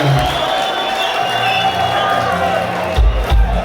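Concert crowd at a rap performance applauding and cheering, a loud, continuous wash of clapping and whoops with voices shouting over it and a few heavy thumps near the end.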